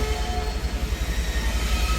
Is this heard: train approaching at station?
yes